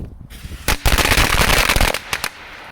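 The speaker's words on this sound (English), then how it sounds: "firecracker strip in the water" A firecracker strip exploding in water pops loudly for over a second, a dense crackling burst that tapers into a few final bangs.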